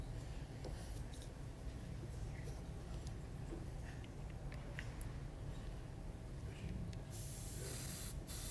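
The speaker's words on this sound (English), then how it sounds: "Aztec dual action. It's an easy airbrush to operate." A steady, soft hiss of spray comes from an Aztec dual-action airbrush and holds throughout, with a few faint clicks and small knocks over it.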